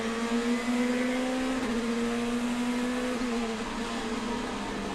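Onboard a DTM race car on Hankook tyres at Brands Hatch during 2019 qualifying, the engine drones loud and steady at high revs, its pitch dipping briefly with gear changes as it accelerates.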